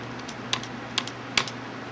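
A few separate, crisp keystrokes land on a computer keyboard, spaced about half a second apart over a steady low background hum, with no voices.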